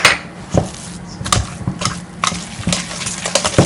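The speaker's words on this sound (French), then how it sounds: "Donc on mélange bien le tout." Cake batter for an apple crumble cake, mixed with silken tofu, worked in a bowl with thick, squelching strokes and knocks of the utensil in an uneven rhythm, close and fairly loud, no talking.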